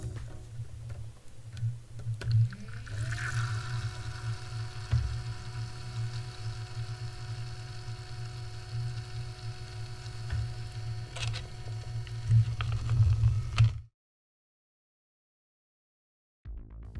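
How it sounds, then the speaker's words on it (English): A Fractal Design Celsius+ S24 Prisma CPU cooler pump being cycled between PWM and Auto modes gives a steady low hum with ticking and a tonal whine that rises as it ramps up, runs for about fourteen seconds, then cuts off. "here is how the pump sounds like with the two modes being cycled through and activated"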